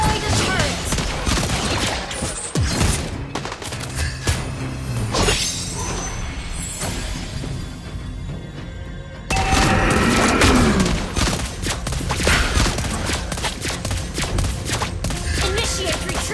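Rapid bursts of gunfire from Lesley in the Mobile Legends video game crackle amid dense game effects, shattering hits and booms, with an announcer voice now and then, loud and continuous.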